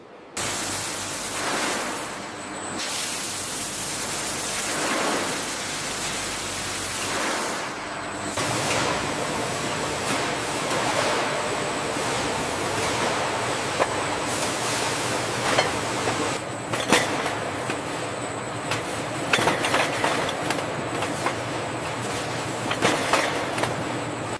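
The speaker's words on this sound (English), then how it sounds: "the automated process swiftly moves the jars of peaches toward the filling and capping machinery" Automated conveyor line in a peach juice factory carrying jars of peaches toward filling and capping machinery, a steady loud mechanical rush with rattling clinks and clanks scattered throughout.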